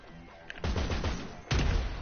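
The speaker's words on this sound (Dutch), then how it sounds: "Als ik hem zie, ga ik hem knallen" Gunfire in the GTA 5 video game: two loud, sharp bursts of shots, one near the middle and one toward the end, each followed by sustained rumbling noise.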